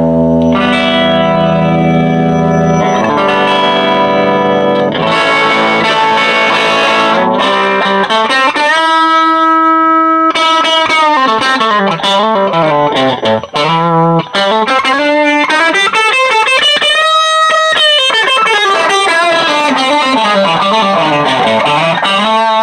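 Electric guitar through a Roland JC-120 amp turned to full volume with distortion, loud sustained chords and sliding bending notes ringing with heavy effects and echo, no talking.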